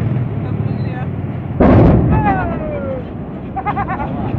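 A sudden loud boom from an explosion in a docked tanker ship's tank at Belawan, Medan, erupts partway through, followed by a rumbling roar, amid background noise and shouting voices.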